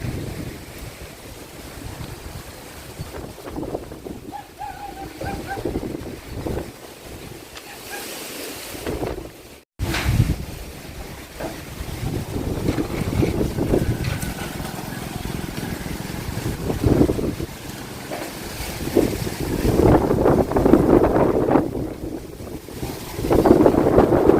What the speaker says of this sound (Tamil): அதுக்கு தான் இந்த காற்றுலாம் இப்படி அடிக்குது